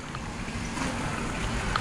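A museum engine idling in a factory setting, heard as a steady close rumbling drone with a broad hiss, constant in level throughout and with no voices.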